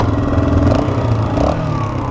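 A Yamaha Raptor 350 ATV engine runs steadily while being ridden, a loud, continuous mid-pitched drone with slight rises in revs and no voices.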